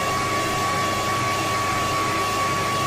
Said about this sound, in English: This is a lovely hairdryer.